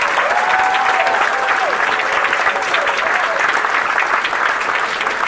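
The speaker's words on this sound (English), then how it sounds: "Let's have another round of applause for all of our inductees tonight." Dense, loud applause from an evening banquet audience honoring inductees, a continuous wash of many hands clapping from start to finish.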